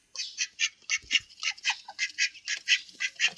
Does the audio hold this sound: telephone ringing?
no